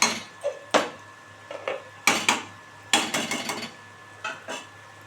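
A metal lid set onto a cooking pot of fish-head cabbage curry, heard as a series of close clanks and rattles in uneven bursts, with short quiet gaps between them.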